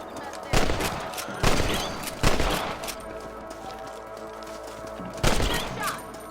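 Four sharp rifle shots from Red Dead Redemption, fired at rabbits raiding a homestead, ring out in an irregular sequence: three in quick succession, then a pause before the last, over a steady low game ambience.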